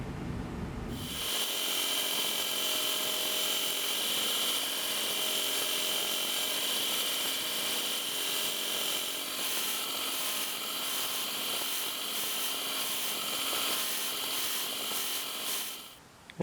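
A belt grinder with a coarse conditioning belt sands a vintage North Brothers Yankee ratcheting screwdriver, a steady loud whirring grind that starts abruptly, holds for about fifteen seconds, then stops.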